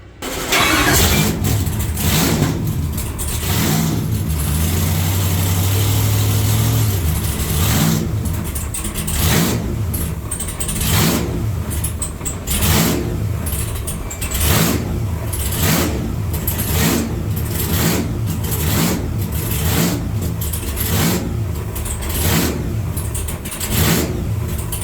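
A blown LS engine on a dyno cranks and fires, then revs hard and loud in repeated surges that rise and fall, the exhaust roaring close by throughout.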